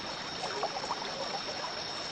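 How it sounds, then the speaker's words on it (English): River water rushes past in a steady, soft wash with faint trickling detail, heard briefly and alone. "The rushing water took the boat into the middle of the river."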